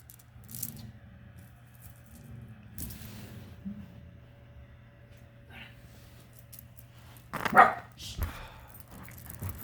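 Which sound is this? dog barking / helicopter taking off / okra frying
dog barking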